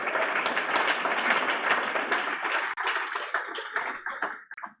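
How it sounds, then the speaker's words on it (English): Dense applause from an audience at a fintech awards ceremony, loud and sustained, then thinning into scattered claps as it dies away near the end. "Round of applause for Frollo."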